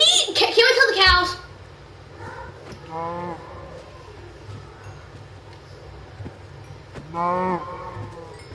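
Cows in the Minecraft video game moo in a few drawn-out calls, one near the middle and another toward the end, with a voice talking briefly at the start.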